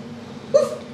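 A single short bark-like yelp from a human voice imitating a dog, close and brief, over quiet room tone.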